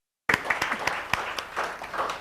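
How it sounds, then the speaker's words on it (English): An audience applauds a panel speaker at a women-in-STEM event: a dense wash of many hands clapping starts abruptly after a brief silence and carries on steadily with scattered sharper claps. "So big round of applause to you."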